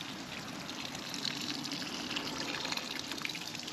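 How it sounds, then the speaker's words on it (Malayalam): Water pours onto plants and vegetables in a home garden in Charlottesville, Virginia, a steady close hiss and trickle that runs without a break. "ചെടിക്കും പച്ചക്കറിക്കും ഒക്കെ കുറച്ച് വെള്ളം ഒഴിക്കാം."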